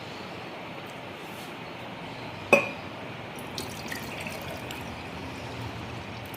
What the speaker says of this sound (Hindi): इसके लिए हमें एक ग्लास कंटेनर लेना है और इसमें फिल करेंगे हम पानी।